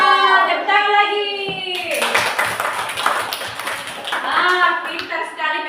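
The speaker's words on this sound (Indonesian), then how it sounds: "Tepuk tangan lagi." Children in a classroom clap their hands together in a quick, busy burst, bracketed by high-pitched children's voices before and after the clapping.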